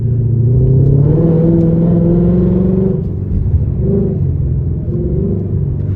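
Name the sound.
tuned Mustang GT engine revving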